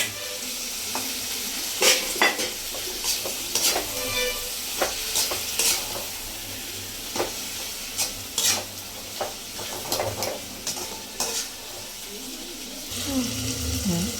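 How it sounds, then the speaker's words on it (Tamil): Mutton sizzles in a hot pan as a spoon scrapes and stirs it at irregular intervals, with faint birdsong in the background. "நல்ல சுருள சுருள வதக்கணும்"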